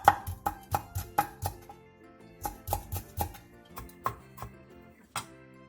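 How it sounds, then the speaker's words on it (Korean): Two Cheongyang chili peppers and one red chili pepper are finely sliced with a knife, heard as rapid, even chopping taps in quick runs on a board, close and clear, pausing briefly between bursts. "청양고추 2개와 홍고추 1개에 길게 십자 모양으로 칼집을 낸 뒤 쫑쫑 썰어주세요"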